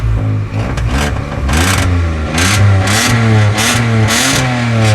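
A BYD car's engine revs repeatedly through its exhaust silencer, loud and close, with pulsing rises and falls in pitch as the throttle is blipped several times.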